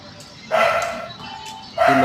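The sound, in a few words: newborn puppy yipping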